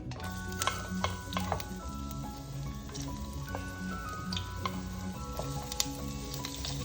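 Ginger and other aromatics sizzle in very hot, smoking oil in a pan. Continuous crackle runs with clicks and utensil ticks and scraping over a humming background, and no one speaks.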